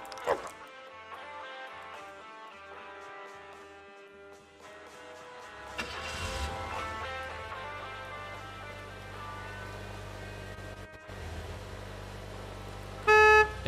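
A car horn sounds in the video game Gas Station Simulator: a short, loud blast near the end, following a stretch of background music and engine rumble.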